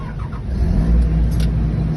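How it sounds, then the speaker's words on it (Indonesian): A Komatsu PC200 excavator engine starting and rumbling steadily at close range, a low continuous drone that holds level with a slight rise in the middle. "Saat mesin sudah menyala, kita memerhatikan ke belakang suara mesin"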